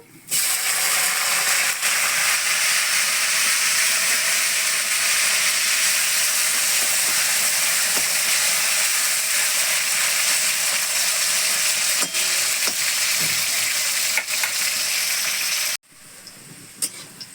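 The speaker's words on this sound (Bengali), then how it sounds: "উচ্ছাগুলো ভেজে দেবো" Bitter gourd pieces fry in hot oil in a pan, giving a loud, steady sizzling hiss that continues without a break and then cuts off abruptly near the end.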